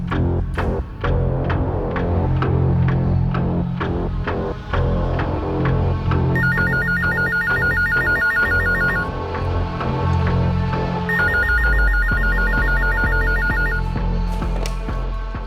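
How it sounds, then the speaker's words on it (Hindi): Telephone ringing with an incoming call, a repeated electronic ring tone in two bursts over a backdrop of dramatic music with steady low hits, no voices. "अज्ञात औरत का फोन कॉल दोबारा आया।"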